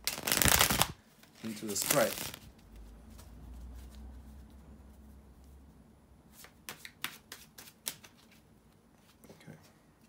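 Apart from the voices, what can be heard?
tarot cards being shuffled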